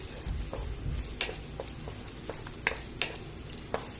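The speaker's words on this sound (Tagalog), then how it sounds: "Just mix it well." Pork and beans are stirred in a frying pan over a steady, low sizzle, with scattered sharp scrapes and taps of the utensil against the pan at an irregular pace.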